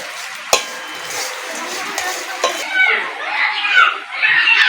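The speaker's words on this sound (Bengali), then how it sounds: "ভালো করে মিশিয়ে নেব পেঁয়াজের সাথে।" Chicken pieces are stirred with fried onions in a sizzling pan, a spoon scraping and turning the mix close up with a soft crackle of frying that grows busier, and a knock of utensil at the start.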